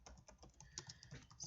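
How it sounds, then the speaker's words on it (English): Rapid typing on a computer keyboard, a steady patter of close, distinct key clicks with small irregular pauses and no talking. "And now I start typing."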